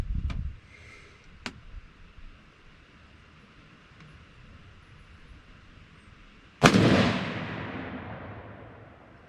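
A PSA PA10 Gen 3 rifle in .308 fires outdoors on a range. After a faint earlier click, one loud shot cracks sharply and leaves a long, fading rumble of echo.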